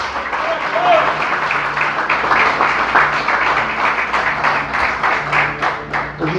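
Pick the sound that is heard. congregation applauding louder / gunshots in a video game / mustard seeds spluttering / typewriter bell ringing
congregation applauding louder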